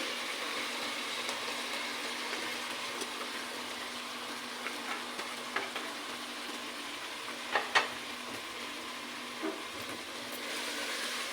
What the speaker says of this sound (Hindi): दाल को हमने मसाले में अच्छी तरह से भून लेना है